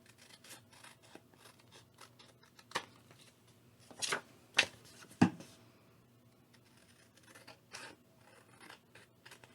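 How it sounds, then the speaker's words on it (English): Scissors snipping through paper while trimming a digital print for a corner hugger craft, a few distinct close cuts clustered in the middle amid quiet rustling. "Just trim this up."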